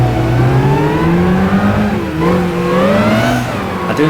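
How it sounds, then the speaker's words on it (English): A car fitted with a sports exhaust revs hard in the Gran Turismo 6 driving game, a loud, close engine drone that rises and dips in pitch with the throttle through a drift run, with no talk over it. "I do like the sound of this car with sports exhaust"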